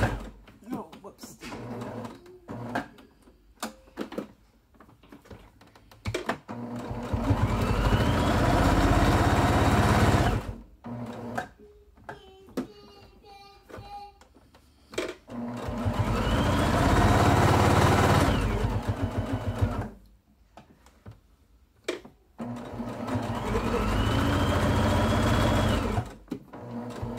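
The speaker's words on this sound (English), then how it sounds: "I'm just going to sew a straight stitch all the way around again." Home sewing machine stitching a straight seam on fabric for reusable toilet paper, three long runs of fast, steady mechanical whirring, separated by pauses with handling clicks and someone talking.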